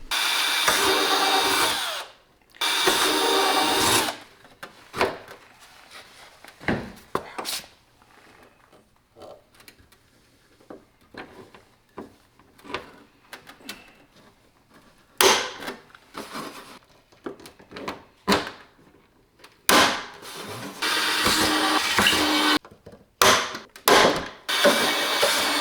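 Rivets set into a car bumper body kit on an LS-swapped BMW E36, with sharp bursts of power-tool noise between quiet gaps, a few long whirring runs and many short snapping pops.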